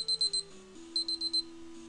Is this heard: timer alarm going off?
yes